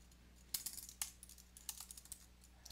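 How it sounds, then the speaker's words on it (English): Fingers tap on a computer keyboard in sparse, quiet bursts of clicks, a few keystrokes at a time with short pauses between them and no talking. "And then I'm going to type in"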